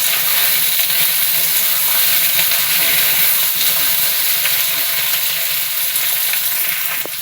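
Taro (gathi kochu) and onions frying together in a pan give a loud, steady, dense sizzle that holds unbroken throughout, with no voices.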